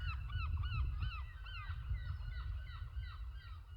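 Seagulls crying repeatedly, a steady run of high, bending calls from several birds over a constant low rumble, loud and close, with no voices.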